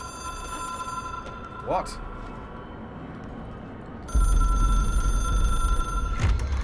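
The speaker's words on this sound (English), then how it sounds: "It is a phone." A telephone rings in the video game Control, a steady electronic tone that cuts out and then returns louder over a low hum, with a short spoken word in between.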